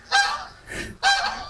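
Birds at a duck farm in China with hundreds of ducks being bred give two loud, close honking calls separated by a brief pause and a softer call, with no voices.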